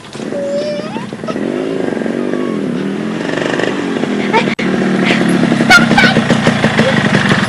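An ojek motorcycle taxi engine runs steadily in a street setting, a rough buzzing idle that grows slightly louder, with voices talking over it.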